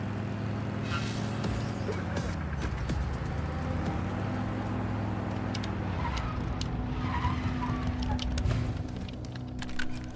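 A car driving in the Once Human video game, its engine droning steadily with shifting pitch and scattered tire-squeal and skid noises throughout.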